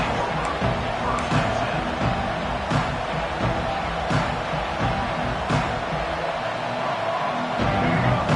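A large stadium crowd at a college football game roars in a steady, dense wash of noise, with a few sharp thumps and claps rising from it while a commentator talks over the top.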